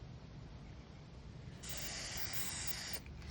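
Spray paint hisses from a can over a stencil on a cosplay prop: one steady, close burst of about a second and a half, with near silence before and after.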